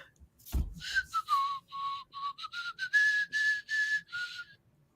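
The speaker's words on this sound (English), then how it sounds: "I can hear whistling" A person whistles a short, wavering tune in a run of quick notes that rise slightly toward the end, clear and close, with no talking.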